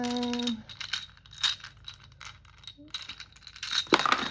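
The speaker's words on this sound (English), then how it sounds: "Oh, dice going everywhere." Small four-sided dice clatter and scatter across a surface in several quick bursts of tapping and rattling, close and fairly loud, with a short tonal hum at the start and no talking.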